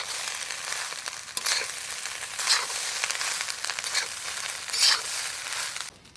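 Chicken rice with vegetables and egg frying in a pan, a steady close sizzle broken by several sharper scraping bursts as it is stirred, with no talking.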